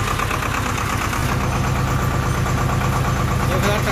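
A 2021 Swaraj 724 FE 4x4 tractor engine idling at about 1000 rpm, a steady close-up low diesel chug with a rhythmic knocking pulse and vibration running continuously at even loudness.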